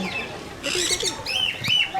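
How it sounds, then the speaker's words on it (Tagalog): Close bird chirps and soft calls come in short bursts, mixed with faint murmuring voices nearby. "There's a bird."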